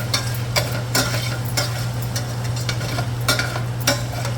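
Beef stir-frying in a wok over medium-high heat hisses steadily while a spatula scrapes and tosses in regular strokes, a low burner hum underneath and no voices.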